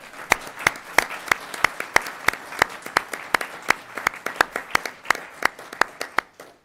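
At a university regents meeting, a small group claps in a sparse, rhythmic pattern, with distinct sharp hand claps spaced steadily and softer claps between them, tapering off at the end.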